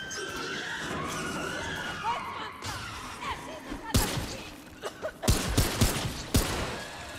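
Gunfire in the video game Remnant 2 sounds as several sharp, loud bursts in the second half, some in quick succession, following a quieter stretch of ambient game noise with a voice briefly present.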